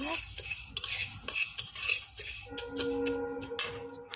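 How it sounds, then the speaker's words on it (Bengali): Lentils fried and stirred in a pan for khichuri, a spoon scraping and clinking against the metal in irregular strokes with a faint sizzle beneath, close and fairly loud with no talking. "আমার ডালটা সুন্দর লাল লাল করে ভাজা হয়ে গেছে"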